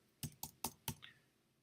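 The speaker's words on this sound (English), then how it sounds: "You can type in unwind" Four sharp, evenly spaced keystrokes on a computer keyboard, close and fairly quiet, followed by a softer click in an otherwise silent room.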